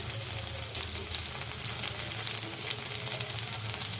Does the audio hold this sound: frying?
yes